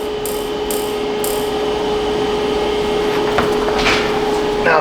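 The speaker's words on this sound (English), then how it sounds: "But it's a smoke machine," EVAP smoke machine running steadily on a 2013 Chevy Silverado, a constant close mechanical hum with a few brief higher hisses early on and rattly clicks near the end.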